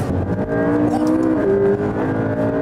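A McLaren 12C Spyder's twin-turbo V8 accelerates hard and loud, the engine note climbing steadily through the gears with a brief shift dip midway, close and continuous with no talking.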